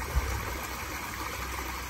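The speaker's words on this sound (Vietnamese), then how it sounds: "Nghe cái thác nước róc rách là thấy mê rồi." A small waterfall spills into a fish pond, giving a steady, soft babbling and trickling wash of water that is constant and alone at mid distance.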